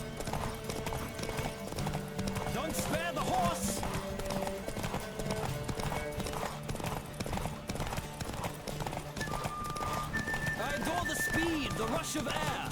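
Hoofbeats of a racing horse gallop steadily through a Witcher 3 horse race, loud and continuous under a music score, with voices calling out and snorts or whinnies now and then.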